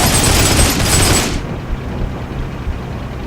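Gunfire in the World War II game Heroes & Generals, heard from a German Panzer I tank crew position: a dense, loud burst of rapid shots for over a second, then a rumbling engine-like background with faint distant pops.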